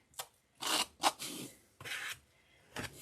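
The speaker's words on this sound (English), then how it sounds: "Scrape. That's the best way." Fake cake frosting being scraped off along the edge of a craft cake slice, a few soft, raspy strokes in uneven bursts, quiet and close.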